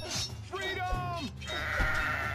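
A cartoon sheep in the video game Kingdom Rush lets out several wavering, nasal bleats in quick succession, loud and close, mixed with other game effects.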